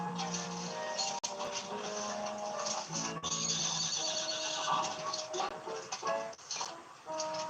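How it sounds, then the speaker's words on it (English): A young foal whinnies repeatedly, loud and close, with shrill quavering neighs that come in several bursts over about seven seconds and short pauses between them. "There's a baby horse."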